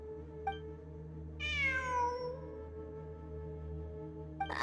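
A cat meows in the video game Genshin Impact, one drawn-out, falling call with bright harmonics over a steady humming game backdrop, with soft clicks before and after.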